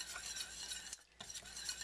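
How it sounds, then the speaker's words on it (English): A whisk stirs sweet rice flour into water in a pot over medium-high heat, producing a faint, continuous swishing and scraping with a brief pause midway. "add 1 cup of the sweet rice flour over medium-high heat. And you're going to whisk that"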